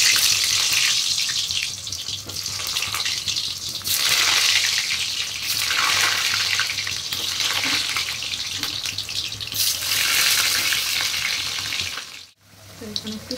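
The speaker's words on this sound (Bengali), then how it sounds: "তো তার মধ্যে এই আলুগুলো ফ্রাই করে নেবো।" Potatoes frying in hot oil in a home kitchen pan, with meat cooking alongside: a loud, steady, close sizzle that swells and eases slightly, with a brief drop in the crackle near the end.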